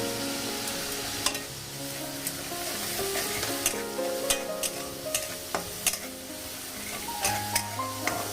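Ginger garlic paste fried and stirred in a pan for kundru masala, a bright sizzle under repeated spatula scrapes and light metallic clinks at an uneven pace.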